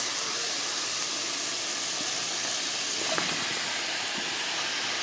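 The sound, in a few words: chopped peppers and onions sizzling in a skillet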